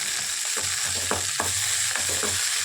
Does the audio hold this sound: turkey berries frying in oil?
yes